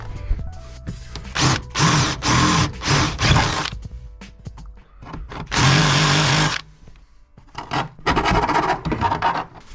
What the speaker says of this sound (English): drilled the hole